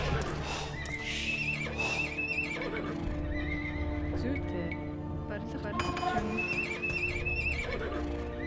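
Massed cavalry in Age of Empires 2 HD, a Huns game on the Arena map, whinny several times over steady clip-clop of hooves and a constant bed of game effects.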